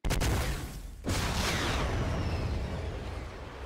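A loud, booming gunshot in the Fortnite video game on mobile, with a sharp blast followed by a long rolling echo that fades slowly across open ground.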